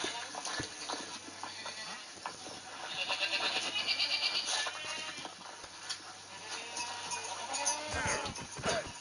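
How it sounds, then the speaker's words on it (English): Goats bleat in the video game Minecraft amid clattering game noise and a person talking, with several short bleats rising over the mix, one louder cry standing out toward the end. "Oh my god, I hate goats so much."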